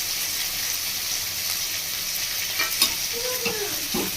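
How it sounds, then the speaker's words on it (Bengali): Fish frying in hot oil in a home kitchen, a continuous bright sizzle with occasional crackles and a couple of utensil clinks near the end. "মাছটা দিয়ে দিয়েছি ভাজতে। ভালো করে মাছটা ভেজে নেবো।"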